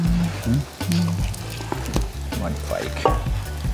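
Farçous, Aveyron fritters, fry in a pan with a steady close sizzle and clinks of utensils, under continual French talk.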